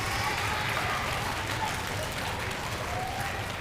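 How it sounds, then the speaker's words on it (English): A school concert audience of sixth graders and families applauds the clarinet players in a band class, dense steady clapping filling the room at a constant loud level with a faint low murmur beneath. "Let's have a round of applause for our clarinets."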